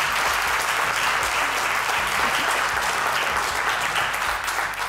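Steady applause from a studio audience on a home improvement show, sustained loud clapping that holds evenly for about five seconds before easing slightly at the end.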